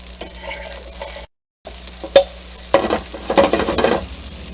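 Pasta sauce ingredients sautéing in olive oil in a pan, a soft continuous sizzle with stirring scrapes and a few sharp utensil clinks against the pan, close and fairly quiet.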